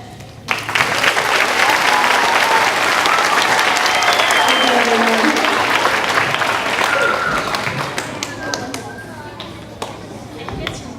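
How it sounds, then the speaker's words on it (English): Sustained, dense applause from a school assembly audience honoring veterans at a Veterans Day event, loud and steady for most of the stretch before tapering off near the end, with faint voices mixed in. "one final round of applause for our veterans"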